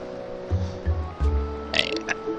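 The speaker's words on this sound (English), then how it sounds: "It's another episode where I open it with a burp" A person lets out a deep, gurgling burp in several low rumbling pulses, close up and fairly loud.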